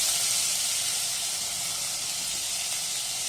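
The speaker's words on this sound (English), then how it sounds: "Now the oil is nice and hot, so I will be adding 2 small finely chopped onions to it." Two small finely chopped onions sizzle in a tablespoon of hot oil, a steady close hiss that holds evenly throughout with no talk over it.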